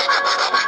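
A metal file rasps in one short, steady scraping stroke, close and fairly loud, with no other sound around it.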